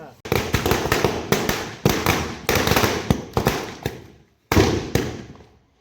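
Firecrackers burst in quick loud volleys of crackling bangs, several bursts separated by short gaps and a longer pause before a final string, with people talking nearby.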